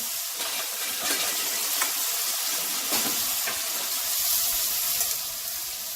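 Stuffed hamburgers fry in oil on a stovetop with a dense, continuous sizzle and crackle, steady and close, with no voices.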